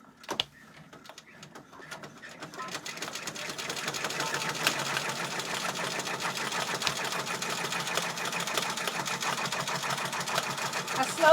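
Embroidery machine stitching a hat at 400 stitches per minute, starting with a few sparse clicks and then settling into a steady, dense rapid mechanical chatter that runs loud and close to the end.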